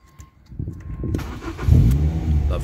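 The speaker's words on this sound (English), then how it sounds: "Let's turn the car over." Ford Fiesta ST Mk6 ST150 with a 2.0 Duratec engine cranks briefly, then catches and settles into a steady, close idle rumble.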